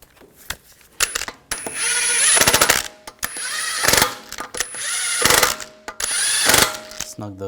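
Power tool buzzing in short repeated bursts as wheel lug bolts are snugged down on a 2004-2009 Audi A4 Quattro, each run of a second or two, loud and close, separated by clicks and brief pauses.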